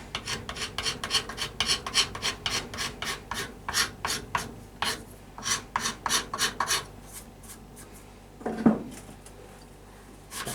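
Ebony overlay being scraped on a hickory pyramid bow: a steady run of rhythmic, close rasping strokes, about two per second, that slows and fades, followed by a single louder knock near the end.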